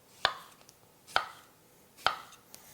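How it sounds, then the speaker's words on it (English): A Zelite Infinity Japanese knife slices through salad vegetables on a cutting board, making three crisp, evenly spaced cuts close by in a quiet setting. "You can cut thin slices if you want for your salad."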